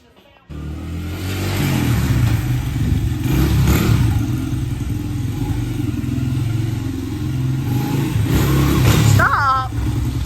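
Rat rod engine revving in a shop on cleaning day, loud rough bursts of throttle rising and falling over several seconds, with shouting voices over the racket.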